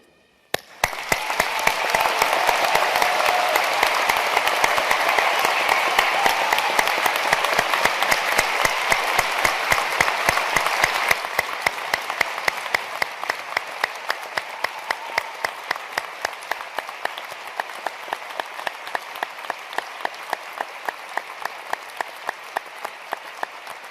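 Graduation audience at Edinburgh University breaks into sustained, dense applause that holds strong for several seconds, then thins into scattered, individual claps as it gradually fades.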